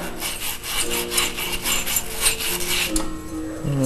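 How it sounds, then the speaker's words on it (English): Steady scraping and rubbing strokes of sandpaper on a Briggs and Stratton engine's recoil shaft, close and continuous, a rough abrasive rasp repeating quickly with no voices. "you just want to give this shaft a light sanding"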